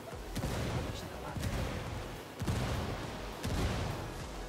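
Frag grenade blasts in the shooter game Ghost Recon Wildlands: a run of heavy booming detonations about once a second over a continuous wash of battle noise and gunfire.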